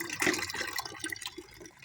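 Water runs and splashes into a bucket on a terrace garden, a brief liquid gush that fades slightly toward the end, with no speech.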